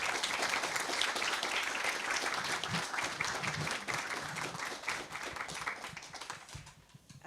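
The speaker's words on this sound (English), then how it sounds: "Can we have a round of applause, please?" Audience applause at a biography talk with Stacy Schiff and Elaine Sciolino, a dense, steady wash of many hands clapping that holds for several seconds, then thins and fades near the end.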